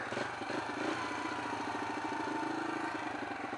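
A Yamaha TTR 125 learner dirt bike idles steadily at moderate volume, a continuous mid-pitched engine putter with faint irregular pulsing and no voices.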